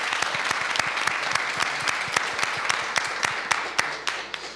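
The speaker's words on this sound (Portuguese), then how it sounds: "Uma salva de palmas para vocês" An audience at a Brazilian physics tournament debate round breaks into sustained, dense applause. Many hands clap at once, loud and steady for several seconds, with no voices over it.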